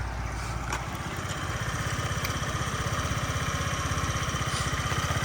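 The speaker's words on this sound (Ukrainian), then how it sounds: "Так, послухаємо двигунчик." A Honda Dio AF-62 carbureted scooter engine idles steadily with a fast, even putter, running alone and close by throughout.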